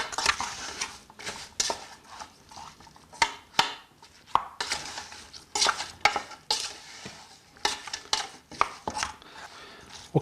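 Lamb, vegetables and olive oil being stirred together in a bowl or pot, a steady run of close scraping and clattering strokes with brief pauses, with no talk over it.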